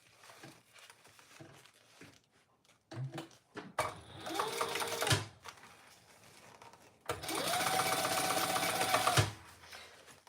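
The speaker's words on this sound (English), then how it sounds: "now I just need to top stitch over here" A sewing machine runs in two stretches of top stitching while sewing a Roadie bag, a shorter burst and then a longer steady whir, close, with small handling clicks between.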